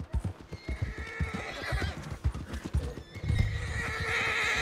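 A horse in the Red Dead Redemption 2 video game clip-clops along at a steady walking rhythm, hooves close and distinct, then gives a clear neigh near the end.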